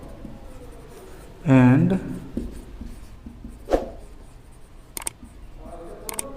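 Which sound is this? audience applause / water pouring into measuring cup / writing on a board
writing on a board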